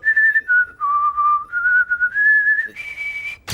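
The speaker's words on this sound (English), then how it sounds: "I can whistle with my butt." A clear, loud whistled melody of sustained notes stepping up and down in pitch from The Amazing World of Gumball cartoon, ending with a sharp click.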